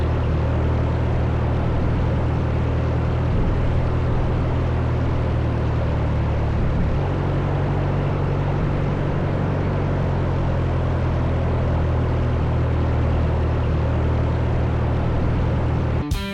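A 1974 Grumman Traveler AA5 propeller airplane drones steadily from inside the cabin, a loud, constant engine and propeller roar with a low hum that barely changes throughout. No one talks.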